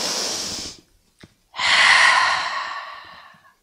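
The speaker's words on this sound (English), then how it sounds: "take an inhale here and then you're going to exhale it out" A long audible exhale during a home yoga exercise, preceded by a shorter breath and a brief sniff, close and clear with no talking.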